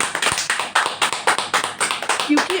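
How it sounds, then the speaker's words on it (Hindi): A church congregation claps together in a quick, loud, rhythmic burst of a dozen or so sharp beats, close and lively, with a voice briefly audible near the end. "परमेश्वर को जोरदार ताली दो एक बार"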